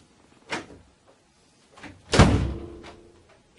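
A wooden door swinging open after its sticking top hinge has been adjusted, with a soft knock, then a louder thud and brief rattle from the frame, heard close in a quiet room.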